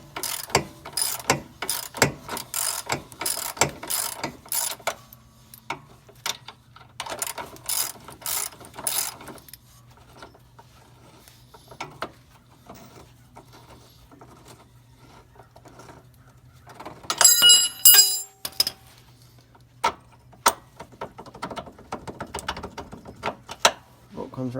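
Ratchet clicking in quick bursts while bolts are loosened and pulled from the lower control arm of a 2013 Dodge Dart, with clanks of metal parts and a short sharp metallic rattle midway, close up in a garage.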